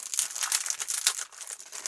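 Close, crisp crinkling of paper being handled, a continuous rustle with small irregular bursts and no voices.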